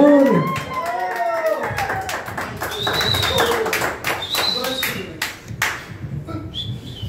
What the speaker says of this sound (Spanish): Ese aplauso bien bonito para ella